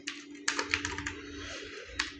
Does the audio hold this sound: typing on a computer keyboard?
yes